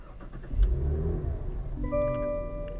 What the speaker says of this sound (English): The button to fire up the engine is right here where you'd expect it to be.